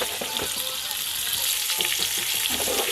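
Sardine fritters fry in a pan with a steady, close, continuous sizzle and crackle, broken by small pops and light stirring noises.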